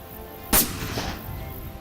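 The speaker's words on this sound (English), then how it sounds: "they had to make sure their rifles were sighted in" A single sharp rifle shot cracks out close and loud while rifles are sighted in, followed by a short rolling echo that fades.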